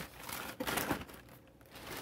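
Wood grain tissue paper inside a purple Nike SB sneaker box crinkles and rustles close by as it is pulled and handled, with a few sharper crackles in the middle.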